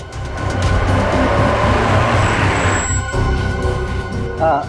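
A car pulls up, its engine and tire noise loud and close, rising and then easing off as the vehicle comes to a stop, with a brief higher squeak near the end.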